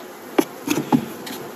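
A few honeybees with water-dampened wings, held in a small queen-rearing box, give brief buzzing bursts close by, three short pulses rising out of a low steady background.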